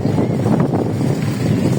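Strong wind blows steadily through Shiraz Town, Lahore, a constant loud rushing roar with microphone buffeting and no pauses.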